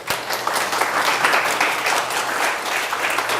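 A class audience at an anatomy crash course breaks into applause, a fairly loud, even patter of many clapping hands that carries steadily throughout.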